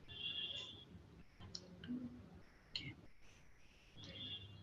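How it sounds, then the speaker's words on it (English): Mouse clicks in the Postman application: a few soft, sharp clicks, spaced unevenly over faint room noise. "I will click on HTTP request"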